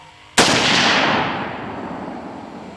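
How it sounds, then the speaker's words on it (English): A single loud, close rifle shot from a .30-06 firing 150-grain Hornady SST or 125-grain Speer TNT rounds at a target, a sharp crack followed by a long rolling echo that decays over a couple of seconds. "So I'm shooting at my second row target."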